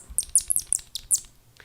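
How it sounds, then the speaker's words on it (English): A happy rat squeaking: a rapid series of high, thin squeaks and chirps in quick bursts, close and fairly loud, with a short pause before a final faint squeak. "This is the sound of a happy rat."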